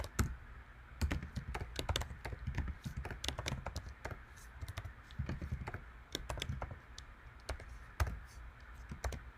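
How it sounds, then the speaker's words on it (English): Code is typed on a computer keyboard in quick, uneven bursts of sharp clicks and taps, close and clear with short pauses between runs of keystrokes. "Type all these in."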